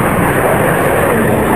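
Display aircraft at an airshow in Malta, a loud steady roar of jet engine noise filling the air continuously with no break.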